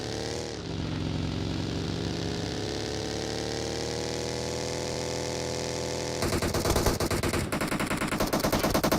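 Automatic gunfire in the mobile battle royale game PUBG Mobile, a steady loud stream of rapid shots with engine-like drone underneath, shifting to a harsher, choppier burst pattern near the end.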